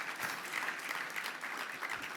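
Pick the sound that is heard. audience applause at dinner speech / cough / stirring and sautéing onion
audience applause at dinner speech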